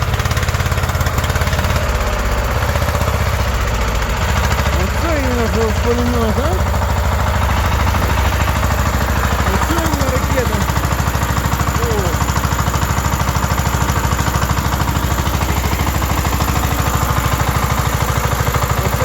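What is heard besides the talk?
tractor engine running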